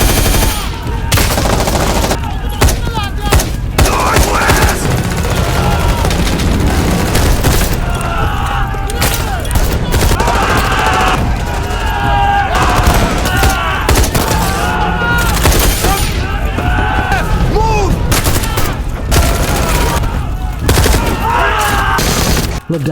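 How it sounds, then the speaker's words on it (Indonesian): Film shootout with dense, continuous automatic gunfire and bursts of rapid shots, loud and close throughout, with shouting voices mixed in. "Baku tembak terjadi."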